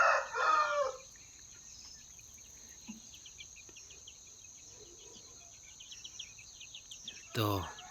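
Shamo and Aseel chickens in a rural yard: a rooster crows at the start and again at the end, with soft clucking, a steady insect drone and a high buzz in the background.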